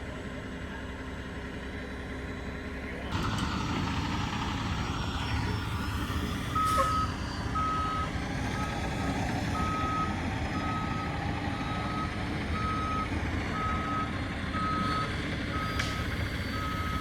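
A trucking company's truck backs up with a trailer, its reversing alarm beeping in a steady, evenly spaced series over a continuous low diesel rumble, moderately close and loud, with no talk.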